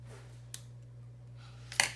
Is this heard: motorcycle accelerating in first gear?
no